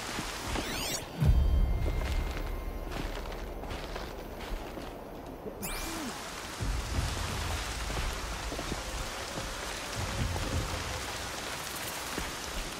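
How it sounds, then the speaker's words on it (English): Steady rain falls in the video game Horizon Zero Dawn, a continuous close hiss of droplets under a faint soft thud near the start and a brief tonal swish partway through. "More rain. My boots will get damp."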